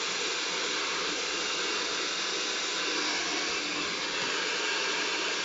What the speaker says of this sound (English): Still keeping that hairdryer, so important to keep that hairdryer up above the brush, above your head.